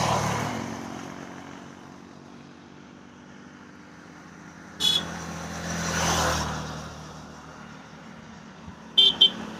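Busy street traffic near Udaipur hums and rumbles steadily, with a sharp horn toot around the middle and a quick double honk near the end.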